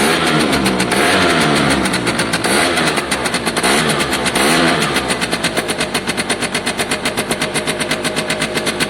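A Piaggio 100cc two-stroke moped engine runs loud and close, its rapid buzzing putter rising with a rev and then settling into a slower, distinctly pulsing idle toward the end.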